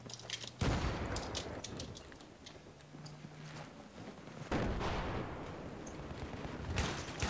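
Grenade explosions and gunfire in the video game Battlefield 3: two sudden, loud bursts, each followed by rolling rumble, with scattered shots and clicks in between, heard fairly faint overall.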